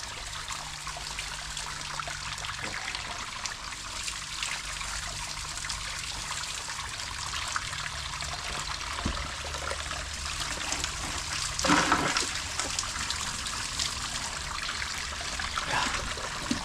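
Clean, cold water runs steadily from a village water pump in a continuous splashing trickle, with a brief louder gush partway through.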